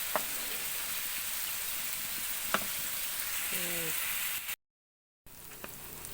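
A sautéed mixture poured into a pan for a Filipino corn dish, sizzling and frying steadily with occasional stirring clicks, a brief voice in the middle, then a short gap before the sizzle resumes more quietly.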